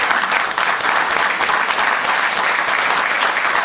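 An audience gathered for a Torah lesson applauds loudly, a thick, unbroken wash of clapping that holds steady throughout.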